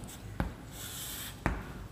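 Marker or chalk strokes on a board during a class 11 maths lecture, a faint continuous scratching with two sharp taps spaced about a second apart, close and without talking.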